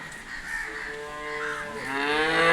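A single cow at a cow shelter in Sangamner lets out one long, drawn-out moo that rises and grows louder toward the end, close by.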